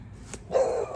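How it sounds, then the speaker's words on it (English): A neighbor's dog barks once at a distance, a short muffled bark on a junk-strewn property with faint outdoor background. "Got a dog barking."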